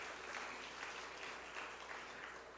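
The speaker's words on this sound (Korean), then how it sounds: "오후 예배 때 그동안 수고했다고 한번 박수 한번 쳐주시죠" Congregation at a Sunday afternoon church service applauding, a soft, steady wash of clapping that sounds fairly distant and low in level, continuing evenly without a break.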